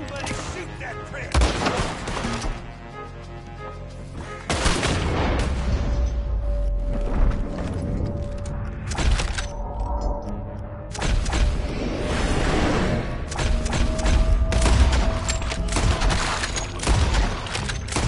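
Gunfire in the video game Red Dead: repeated loud shots and bursts, some in quick volleys, ringing out over a continuous battle din with someone shouting at times.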